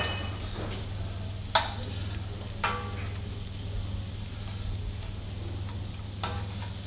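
Cabbage and onions cook slowly over a low flame in a pan, giving a steady close sizzle broken by a few scraping stirs, with a low hum underneath.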